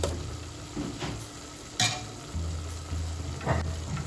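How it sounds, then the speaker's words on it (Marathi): Masala fries in oil in a pan for chicken rassa, a steady close sizzle broken by a few sharp scrapes and knocks of a spoon stirring. "मसाल्याला चांगलं तेल सुटू द्यायचं."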